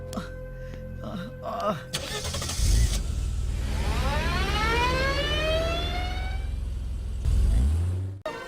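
A car drives away in an Indian action film, with a door thud and the engine revving up and pulling off, mixed with a wailing siren-like tone and dramatic music.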